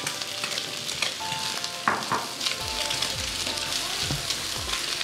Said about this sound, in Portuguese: Agora eu já começo a colocar o arroz.